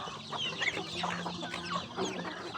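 A flock of pet chickens on an island clucks and chatters up close, with overlapping calls running continuously and fairly loud, without any clear human talk.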